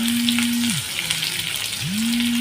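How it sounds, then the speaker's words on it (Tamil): A small batch of onions fries in leftover oil for topping a Kerala-style chicken keema dum biryani, a close, steady hiss and sizzle with a low humming tone that drops away and returns. "இப்போ இதே எண்ணெயில் கொஞ்சமாக வெங்காயம் சேர்த்துக்கிறேன்."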